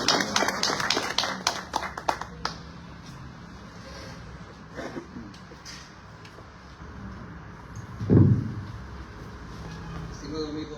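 An audience at the inaugural lecture of the José María Rieras political training school, on the Palestinian cause and international law, bursts into applause, a dense patter of clapping for about two seconds that thins to scattered claps and fades into room noise.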